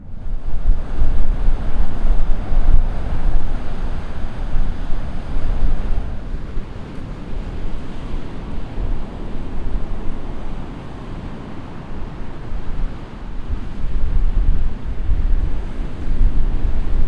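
Wind blows steadily with surf and sea waves washing in the background at a seaside spot on a hot day, a continuous broadband roar that swells slightly at the start and end, with no voices.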